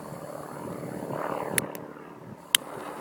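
An airplane drones overhead, its hum swelling and then easing, with a couple of sharp close clicks and no talking.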